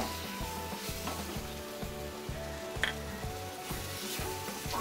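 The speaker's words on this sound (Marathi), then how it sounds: "आणि हे बारीक गॅसवर आता मी 5 मिनटं झाले बारीक गॅसवर हलवते" Paneer bhurji stirred in a pan over a low gas flame, a steady soft sizzle with faint scraping strokes and a low background hum, close and quiet with no talking.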